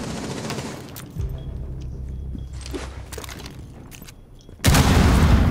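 Video game gunfight: a frag grenade blast and bursts of gunfire, with scattered shots and a loud eruption near the end, plus softer rustling and footsteps between.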